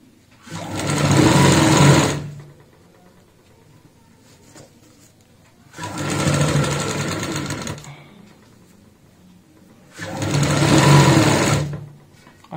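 Three loud bursts of a sewing machine stitching the edge of a doormat made from an old jute sack, each lasting about two seconds, separated by near silence.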